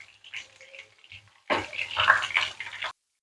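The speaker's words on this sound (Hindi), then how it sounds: "इनको हल्का सा फ्राई कर लेना है" A soft sizzle rises abruptly after quiet, low crackling of green chilies frying in hot oil, close by, lasting about a second and a half.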